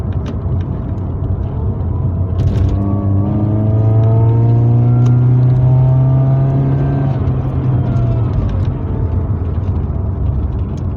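A Mercedes-Benz 230 Kompressor accelerates from inside the car, its engine note climbing steadily in pitch with a slight hesitation. The engine is loud and close, and no one speaks.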